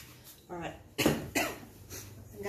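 A couple of sharp, close coughs burst out in quick succession, with faint breathing and murmured voice around them.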